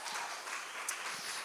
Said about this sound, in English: Yep, you can clap for that.